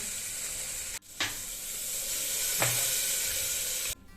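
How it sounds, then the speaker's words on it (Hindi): Homemade spice masala roasts in a pan with a continuous hiss, broken by brief drops and a couple of spoon taps, no talking. "ये है घर का मसाला। इसको भुना जाएगा, फ्राई कर लिया जाएगा।"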